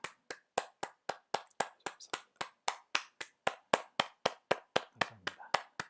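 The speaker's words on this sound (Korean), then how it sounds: "우리 하나님 앞에 영광의 박수 올려드리겠습니다." Hands clap in a church congregation during an online prayer meeting, sharp, evenly spaced claps in a brisk steady rhythm of about three per second, crisp and close, with no talk.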